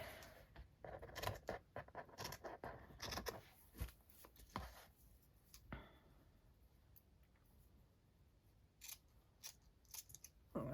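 Scissors snip through paper and lace in a crafting setting, a quiet run of close, sharp clicks and cuts, busy at first, then sparser with pauses, no talking.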